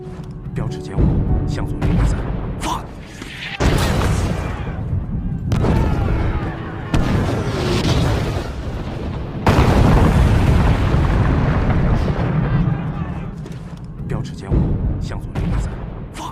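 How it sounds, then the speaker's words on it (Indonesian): Heavy cinematic landmine explosions in a Chinese Civil War film boom repeatedly, deep rumbling blasts with debris bursts and dramatic score, loud and close, with some voices between blasts. "Dan di saat ranjau itu meledak, Kapten Gu berhasil menghindarinya walaupun"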